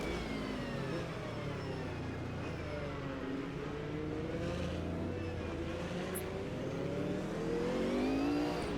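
A Group C sports car engine drones steadily in the Automobilista 2 sim racing game played in VR, its pitch slowly dipping and climbing as the car laps; the sound is fairly quiet and continuous, with no voices.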